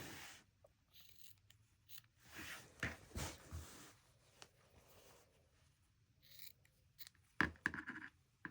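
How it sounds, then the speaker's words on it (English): Scissors trim the corners of a sewn pillow cover, making a few faint, close snips and crisp cuts among quiet fabric rustling. "we're going to trim our corners without trimming our seam"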